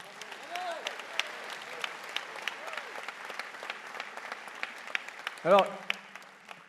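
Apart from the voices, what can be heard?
audience applause at political meeting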